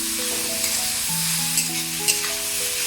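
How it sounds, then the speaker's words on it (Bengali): Shredded cabbage stir-fries in a pan with a bright, continuous close sizzle and a few small clinks, while steady musical tones play underneath. "এবার দিচ্ছি আমি এই যে কুচিয়ে রাখা বাঁধাকপি"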